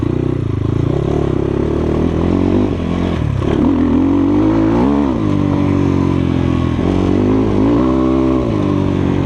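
A Kovi Lite 300 KT Chinese enduro motorcycle ridden along a forest trail, its engine loud and close throughout, pitch rising and falling with the throttle, over a steady rumble and no voices.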